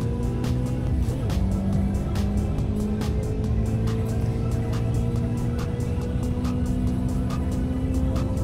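Vintage touring cars racing at Spa, Belgium in Automobilista 2, a loud continuous engine drone with pitch rising and falling through gear changes, a brief dip near the start and rapid repeated ticks over the roar.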